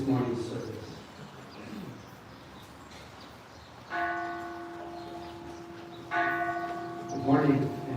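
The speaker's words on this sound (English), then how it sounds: "With the ringing of the temple bell, we will begin this morning's service." A temple bell is struck twice at a Soto Zen Buddhist mission in Hawaii to open a morning Buddha Day service, each strike a clear resonant tone that rings out and slowly decays over a soft room hum, with brief voices nearby.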